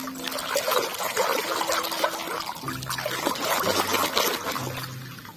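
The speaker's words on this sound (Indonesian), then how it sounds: "sekarang kita bersihkan mainan yang berlumpur ini." Steady trickling water poured while washing muddy toy cars, including a blue and orange toy, a continuous close splashing stream that runs through the whole stretch with no talking.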